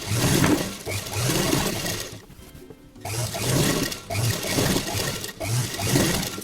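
A sewing machine stitches fabric in rapid, loud bursts of rhythmic chatter, stopping briefly mid-way before running again in several runs.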